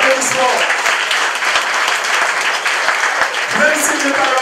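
Audience applause at a municipal election list presentation in Martinique: dense, loud, continuous clapping from a crowd, sustained evenly throughout without a break.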